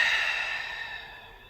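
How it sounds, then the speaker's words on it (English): A single long, breathy exhale during an abdominal workout, loud and close at first and fading steadily, with no talk over it. "Exhale, come up into your chest lift."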